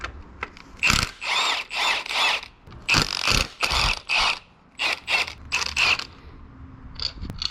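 A hand ratchet loosens a bolt on a Mercedes AMG M113K engine, close and loud, in repeated bursts of rapid clicking with short pauses between strokes.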